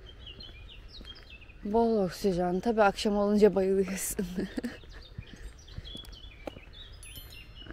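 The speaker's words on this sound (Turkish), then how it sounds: "Kuş seslerine baksanıza." Small songbirds chirp and call in a small park in Berlin, their bright calls coming in a busy burst mid-clip and thinning to scattered tweets, with someone talking over them throughout.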